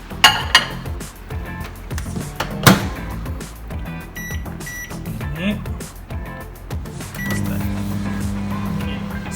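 A microwave oven cooks a chocolate mug cake, its low hum settling in toward the end after clinks and handling noises, while a person talks throughout.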